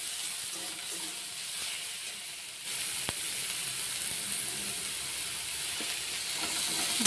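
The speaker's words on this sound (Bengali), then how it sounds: "মা নাড়ি নাড়াচ্ছে এবার ভালো করে একটু ভেজে নেবে" Small mourala fish stir-fry in a pan with very little oil, giving a continuous close sizzle and hiss, with a brief scrape of stirring partway through.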